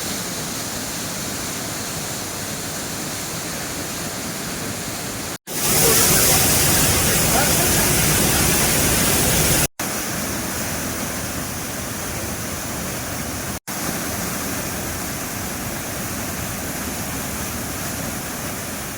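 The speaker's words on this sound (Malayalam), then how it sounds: "പടിക്കെട്ടുകൾ താണ്ടി താഴെ പതഞ്ഞു പൊങ്ങി വെള്ളച്ചാട്ടം" Meenthulli waterfall tumbling down rock steps in the rainy season, a steady, dense rushing roar that holds constant throughout, briefly swelling louder for a few seconds before settling back.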